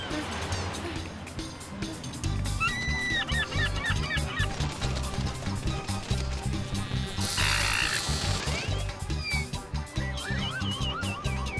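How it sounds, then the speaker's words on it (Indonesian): A cartoon seagull gives repeated honking, squawking calls, loud and close, over busy background music and action sounds. "Itu burung camarnya."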